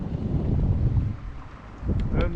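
Steady roar of wind buffeting the microphone outdoors along a road, loud and continuous, with a brief rumbling gust near the end and no talk.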